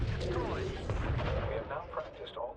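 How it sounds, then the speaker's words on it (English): Interceptor cannons in Homeworld 3 fire a dense run of heavy, overlapping bursts. Voices speak over the steady barrage. "Interceptor cannons sound beefy."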